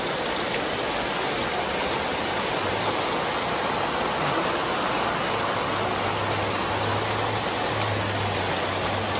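Rain falls steadily on a wet city street in an even, close wash of patter with faint low rumbles from traffic underneath.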